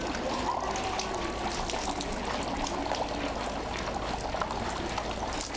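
Water pours and trickles steadily at the hand-washing fountain of Meiji Jingu shrine in Tokyo, a continuous close splashing stream with a faint hiss, no talking.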